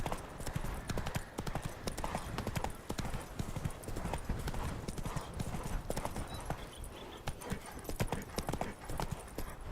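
Roach the horse gallops in The Witcher 3, a fast, dense run of hoofbeats pounding steadily and close for the whole stretch.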